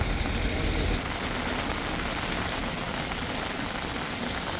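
Heavy pre-monsoon rain in Indapur pours down as a dense, constant roar of drops on surfaces, loud and unbroken throughout.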